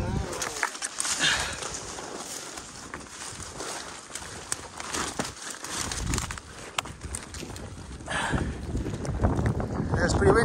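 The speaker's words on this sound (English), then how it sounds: "Oh, it's a steady wind, it's not like it's howling or anything. It's a light, steady wind." Light, steady wind blows outdoors at a remote float camp, a broad continuous rush that rises and falls slightly throughout, with a voice talking over it in places.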